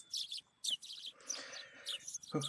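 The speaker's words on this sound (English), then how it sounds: "The chirping of birds served as my alarm clock." Birds chirp and tweet in the visual novel Higurashi, with bright, bursty calls that come in quick clusters at a soft level, and a short low sound near the end.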